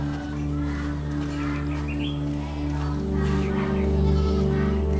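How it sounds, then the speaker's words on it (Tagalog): A goat bleats in a quavering call, close and fairly loud, over a constant low hum. There are a few fainter bird-like chirps in the background. "Kanino kayang kambing to?"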